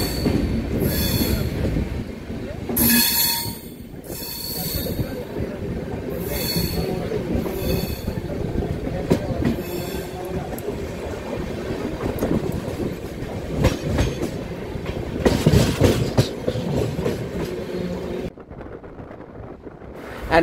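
The Godavari Express runs on the rails between Visakhapatnam and Hyderabad, with a steady rumble, rhythmic wheel clatter and squealing, and wind buffeting close to the microphone throughout.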